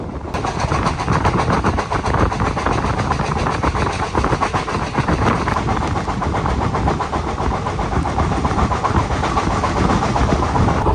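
The Pune–Ernakulam Superfast Express runs along the Konkan line during the monsoon, a loud, continuous rumble with rhythmic wheel clatter heard steadily from on board.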